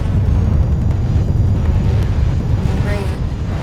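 Explosions rumble like fireworks in the Armored Core VI video game, a sustained loud roar of deep booming bursts that lasts throughout without clear breaks.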